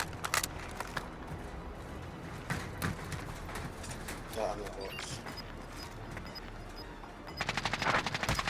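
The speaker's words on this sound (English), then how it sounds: "Oh, no, I'm getting shot." Gunfire in Call of Duty Warzone on Rebirth Island, with sharp shots and rapid bursts crackling through the clip, some near and some distant, under a busy background of game noise and voices.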